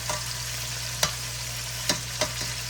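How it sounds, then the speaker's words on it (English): Chicken thighs fry in a pan over medium-low heat, giving a steady, faint broadband sizzle with a low hum beneath and a few sharp clicks or taps scattered through. "I'm going to squeeze these last 2 thighs in the pan."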